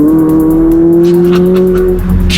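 A McLaren 570S sports car engine revs hard while driving, a loud close howl with a strong steady tone that holds and then drops off near the end.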